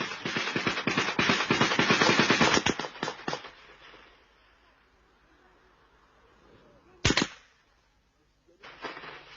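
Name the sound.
gunfire in an ambush in Uganda, 1985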